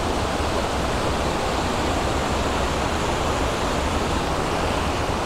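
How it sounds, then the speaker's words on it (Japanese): A river near a waterfall in the mountains around Hida Takayama flows with a steady, loud, broadband rush of water, continuous and unbroken throughout, with no voices over it. "近くはね、こういった川が流れてます"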